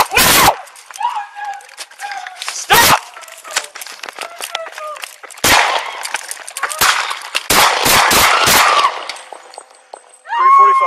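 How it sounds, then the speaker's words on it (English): Several loud, sharp gunshots ring out during a police encounter, spaced irregularly across the stretch with some in quick succession, amid shouting and a dog barking, and a brief radio crackle at the end. "shots fired."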